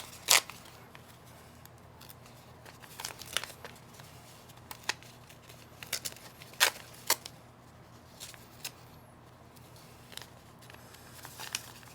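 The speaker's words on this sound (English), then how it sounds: "Remove the paper." Paper being torn and peeled from a paper-pieced quilt block, sparse crisp rips and crinkles in short separate bursts over a quiet room background, close and without speech.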